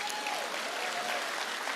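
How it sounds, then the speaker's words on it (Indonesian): A church congregation applauding during an evening prayer service, a dense, steady wash of many hands clapping at once, with a faint sustained tone underneath. "Sekali lagi tepuk tangan buat Tuhan Yesus."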